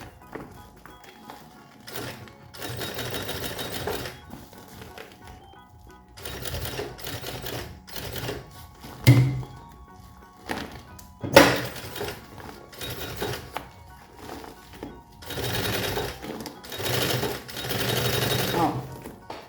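Sewing machine stitching a mirror-backed lining and fabric strip together for a children's lunch bag, running in several bursts of rapid mechanical whirring separated by short pauses and handling noises.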